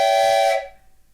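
A train whistle sounds one loud, sustained, steady blast close by, then cuts off and fades into quiet.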